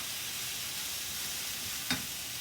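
Pork and onion frying in a generous amount of oil in a pan make a steady, close sizzling hiss throughout, with one short sharp pop or clatter near the end.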